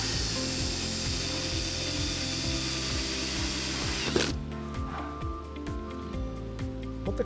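Countersink bit cutting into the gel coat of a fiberglass boat hull, a steady grinding whir with rhythmic rubbing strokes for about four seconds, then stopping to a quieter room with light clicks.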